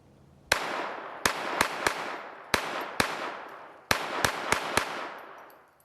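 A Glock 44 .22 LR pistol fires a full magazine at a range: ten sharp, loud reports in uneven bursts, each cracking out with a brief decaying tail, with no talking.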